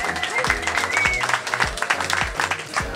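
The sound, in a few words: audience applause for the top three teams at a games festival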